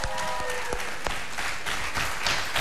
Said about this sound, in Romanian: Aplauze, vă rog frumos, pentru un cuplu superb în muzică.